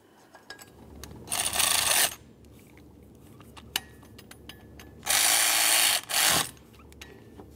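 Ratchet snugging water pump mounting bolts on a 2003-2011 Mercury Grand Marquis engine, two close bursts of rapid clicking separated by quiet pauses with scattered metallic taps.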